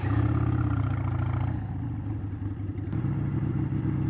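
A 1998 Harley-Davidson Sportster XL 1200C Stage 4 rumbles along on a ride, its low, lumpy V-twin loping steadily with a brief shift in pitch partway through, close and continuous with no talk.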